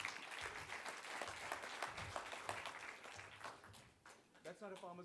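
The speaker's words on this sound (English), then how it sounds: "please give Mr. Els a big farmer's round of applause" Steady crowd applause at an agricultural talk series event fills most of the stretch, a dense wash of clapping that thins near the end as a voice begins speaking.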